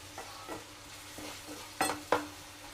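Chicken masala sautés in a pan under a soft background sizzle, broken by several scraping stirs, the last two louder and sharper, near and with no speech.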